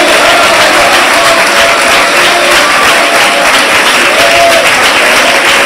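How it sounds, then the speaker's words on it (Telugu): Church congregation clapping together in sustained unbroken applause, a dense even wash of hand claps filling the room at full loudness for several seconds, with a faint tonal voice or music line underneath. "అందరూ ఒకసారి ప్రభు ఆగకుండా చప్పట్లు కొడుతూ స్తోత్రాలు చెల్లించాలి"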